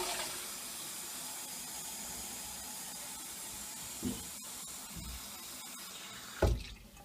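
Steady running water from a faucet pours into a 16.9-ounce plastic water bottle, a continuous broadband rush lasting several seconds, with a couple of brief louder splashes or bumps near the end.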